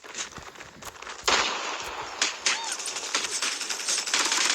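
Gunfire in Call of Duty Mobile, a dense crackle of rapid shots with sharper bangs mixed in, continuous and fairly loud throughout.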